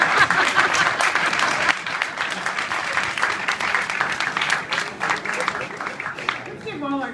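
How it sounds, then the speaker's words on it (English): Audience applause for the candidates at a ward alderman candidate forum in Evanston, a sustained dense clapping from a crowd that stays loud throughout and thins slightly near the end. "Let's give all our candidates a big round of applause."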